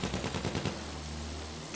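An anti-aircraft gun fires in the World War I shooter Battlefield 1, giving a fast burst of rapid, evenly spaced thumping shots that stops after about two-thirds of a second, leaving a low droning hum.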